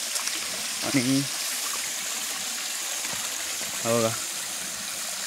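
Water runs down through a pipe beside a small village pond where bullocks drink, a steady rushing flow heard close, with someone speaking briefly twice over it.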